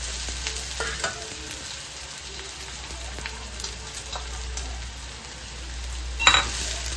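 Sabudana and crushed peanut powder being stirred into fried potatoes in a frying pan for sabudana khichdi, giving a soft continuous sizzle with scraping stirs and a louder clatter near the end.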